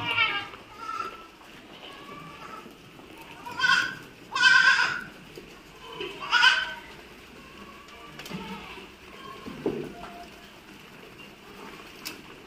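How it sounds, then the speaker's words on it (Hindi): Goats on a farm bleat in several short, loud calls while eating feed, with a low background of chewing and shuffling in between. "आप देख सकते हैं सारी बकरियां दाना बहुत अच्छे से खा रही हैं।"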